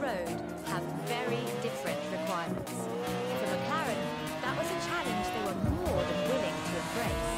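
A McLaren F1 with a center seat is driven in Forza Horizon 4, its engine revving up and down through gear changes with tire squeal, continuous and loud, while someone talks over it.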